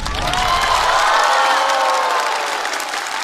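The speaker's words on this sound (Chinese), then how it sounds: "再次掌声送给丹尼。" Studio audience applause and cheering at a stand-up comedy show, a dense, loud, steady wash of clapping with some whoops that swells and holds for a few seconds.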